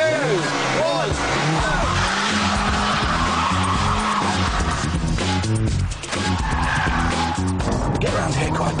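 A petrol Mini Cooper skids with a handbrake turn, its tyres squealing continuously over a revving engine, loud and close throughout while someone talks over it.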